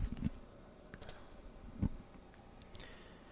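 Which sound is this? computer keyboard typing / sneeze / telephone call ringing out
computer keyboard typing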